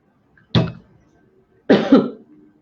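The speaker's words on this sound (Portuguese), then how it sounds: "Perdoem a minha tosse" Two short, sharp coughs about a second apart, close and clear, with near silence between them.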